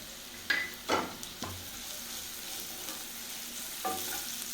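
Prawn pickle masala stirred and fried dry in a pan, with a steady low sizzle and a few distinct spatula scrapes near the start and another toward the end, close and fairly quiet.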